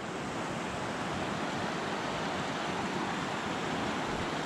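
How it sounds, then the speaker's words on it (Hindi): A river in the mountains near Yarma Gompa, reached on a Yamaha 150cc motorcycle, rushes by under strong pressure in a steady, loud, unbroken roar of water, close by, with no voices heard. "ये देखो कितना प्रेशर में पानी आ रहा है"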